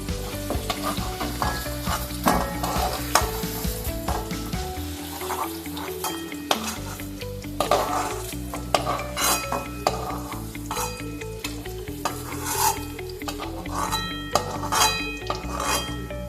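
Pieces of paneer sizzle in hot oil while a spatula stirs and scrapes against the wok, with frequent metallic clinks and a steady hiss underneath.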